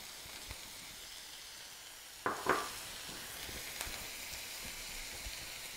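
Onions fry and slowly soften in a pan for a West African peanut chicken sauce, making a gentle, continuous sizzle. A brief utensil clatter sounds midway, and the hiss carries on steadily.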